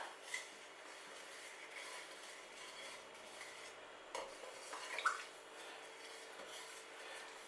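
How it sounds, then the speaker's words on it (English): Sugar being stirred in a pot to make violet syrup gives a faint, quiet scraping and rubbing, with a few soft clinks of the spoon against the pot; no voices. "Keep stirring until all that sugar is dissolved."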